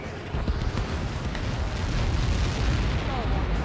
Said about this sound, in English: We got caught in that explosion.